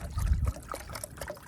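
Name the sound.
water poured into a pot for cowboy coffee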